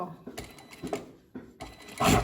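A sewing machine stitching fabric, with short mechanical bursts of rattling stitches separated by brief pauses and a louder run at the end.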